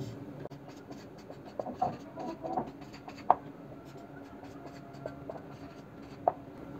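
Pen writing the reason step of a geometry solution on paper: soft continuous scratching with occasional sharper taps, close and quiet, with no talking.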